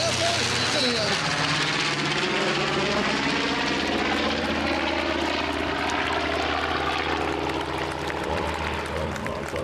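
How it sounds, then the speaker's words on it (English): Steady, loud drone of a B-25 bomber's piston propeller engines during a flyover at a memorial event, sustained and rumbling throughout with little change in level. "Here's our flyover, folks. This is the B-25 from the Champaign County Air Force Museum."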